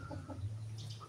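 Chickens on a free-range farm, a hen with her chicks, make soft clucking calls. The calls come in a few short bursts over a steady low hum of background noise, and a higher chirp from a chick sounds near the end.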